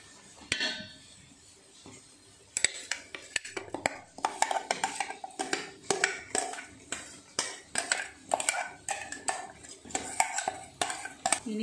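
A spoon scrapes and clinks rhythmically against a pot while avial, vegetables mixed with grated coconut, is stirred, giving close repeated metallic strokes that grow steady after a brief quiet start.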